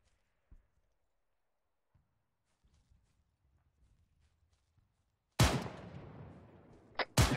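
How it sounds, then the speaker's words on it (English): Two loud video game gunshots in Arma 3 with ringing decay, the first sharp blast followed by a second shorter crack, after near silence with faint scattered sounds. "Two gunshots."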